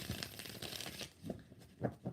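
Tarot cards being shuffled, a brisk riffling rush of cards followed by a few soft short flicks and taps, quiet and close.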